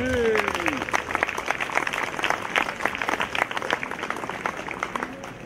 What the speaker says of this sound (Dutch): Inderdaad, een applaus.